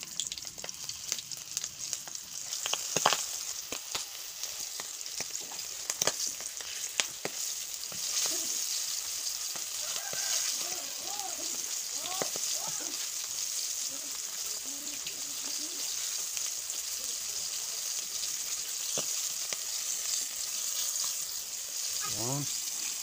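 Chicken feet fry in oil with a constant crackling sizzle and occasional bubbling pops and stirring clinks. The frying stays close and moderately quiet throughout, with faint background voices at times.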